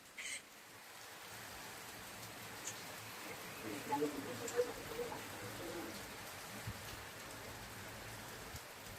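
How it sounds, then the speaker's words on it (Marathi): Heavy rain falls steadily over a village, a soft, even hiss at low level throughout, with faint bird cooing mixed in. "हा किती पाऊस सुरू झाला गावात."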